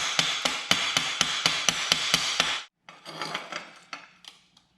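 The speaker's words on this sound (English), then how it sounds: "Let's chip off some of the slag." A hammer chips slag off a stick weld on 1/4 inch steel plate: a fast run of about ten sharp, close metallic strikes, then a short pause and a looser scatter of lighter taps and scraping.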